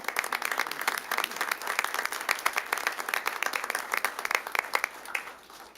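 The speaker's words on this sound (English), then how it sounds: "if we could give one more big round of applause for everyone here for their courage" A round of applause rises in a city council chamber, a crowd clapping briskly and fairly close, holding steady before tapering off at the end.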